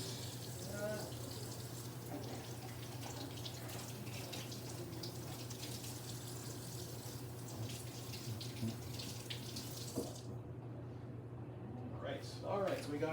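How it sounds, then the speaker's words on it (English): A kitchen tap runs steadily as colorful bell peppers are rinsed beneath it, a continuous, fairly quiet wash of water with a low constant hum and scattered splashes, ending in a brief pause before the flow resumes. "Just kind of rinse them off just like the cucumbers."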